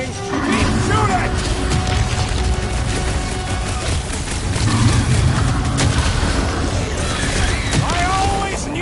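Gunfire in the video game Guardians of the Galaxy rattles in a dense, loud battle mix of repeated shots and deep booms, layered under shouting voices throughout.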